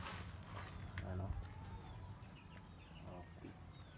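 Backyard hens cluck and murmur nearby while feeding amid busy farmyard noise, with a person talking over the birds.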